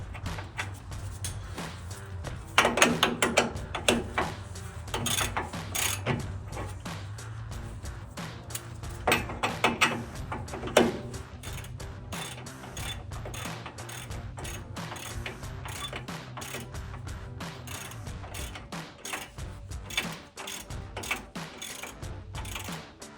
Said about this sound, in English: tighten your upper ball joint, which should be 18mm.